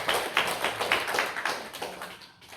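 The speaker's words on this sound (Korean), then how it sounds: "우리 또 한 번 박수하겠습니다" A church congregation applauds during a worship service with a dense, busy patter of many hands clapping, moderately loud and fading toward the end.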